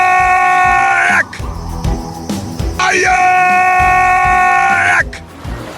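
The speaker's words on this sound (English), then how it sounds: "Did you hear that terrible scream again?" A loud, terrible scream rings out in a pirate adventure audio drama, two long harmonic wails separated by a brief rough gap, loud and close over a noisy backdrop.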